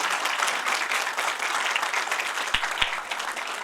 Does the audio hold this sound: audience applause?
yes